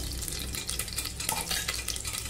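Oil fries in a steel cooker on a stove for a Karnataka-style chicken curry, giving a dense, close crackle with stirring scrapes throughout the short stretch.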